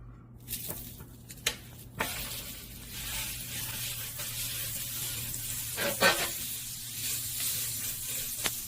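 Butter sizzling in a pan before a tenderloin steak goes in, cooked outdoors in cold weather, a steady close hiss with a few sharp clinks and taps, no talking.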